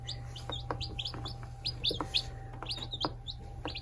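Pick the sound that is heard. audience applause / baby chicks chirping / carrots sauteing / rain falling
baby chicks chirping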